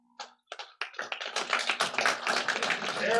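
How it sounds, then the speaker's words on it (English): A small conference audience gives a quick round of applause, starting with a few scattered claps and quickly swelling into dense, close clapping that holds steady to the end. "Quick round of applause for Steve"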